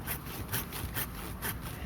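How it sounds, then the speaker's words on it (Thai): A hand saw cuts through a branch of a grafted tree. Steady back-and-forth strokes come about twice a second, close and rasping, with no voices. "กิ่งที่สองเนี้ยก็เลื่อยอย่างนี้มันก็ง่ายแล้วเห็นไหม"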